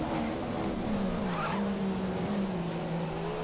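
Formula 1 race cars in the F1 video game run side by side, a continuous engine whine that wavers in pitch over a steady noisy wash, fairly close and alone without talk.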